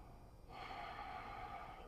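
Deep breathing while holding a standing yoga squat: a quiet breath, then a sustained airy inhale or exhale through the nose, close and faint, with no talk.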